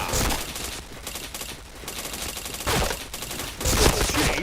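Gunfire from the shooter game Point Blank, dense automatic volleys crackling in repeated loud bursts with brief dips between them.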